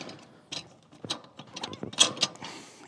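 A Cutlass mower blade is pushed back onto the mower and a small tang is pressed down to seat it, producing several close metallic clicks, scrapes and a short ratcheting rattle.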